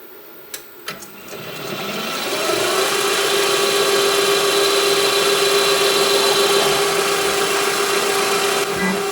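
A drill boring a hole pattern in flat metal stock, starting with a couple of sharp clicks, then settling into a loud steady whine and grind that runs to the end.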